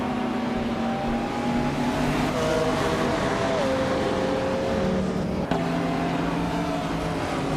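A 1993 Porsche 911 Turbo races in a video game, its engine holding a loud, continuous drone whose pitch rises and drops between gear changes, with other cars humming underneath.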